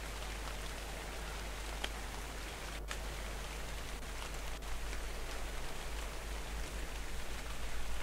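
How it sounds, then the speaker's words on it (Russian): Steady rain falls in the survival video game ARK Survival Evolved, a dense, even hiss of drops that holds at a constant level for the whole stretch with no talking over it. "Дождь пошел, супер."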